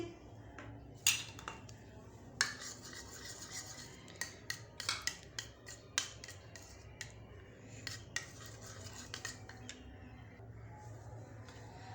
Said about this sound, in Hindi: हाफ कप दही लिया और इसमें तकरीबन 1 पाव हम क्रीम डालेंगे। इसको अच्छी तरह मिक्स कर लेंगे।